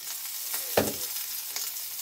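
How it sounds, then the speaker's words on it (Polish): Onions frying in a pan with salt and pepper give a steady, close sizzling hiss, broken by a sharp clatter near the start as they are stirred. "I tak to nam będzie się ładnie smażyło."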